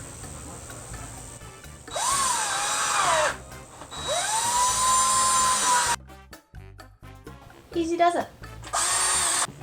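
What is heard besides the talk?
power tool drilling during canvas sign craft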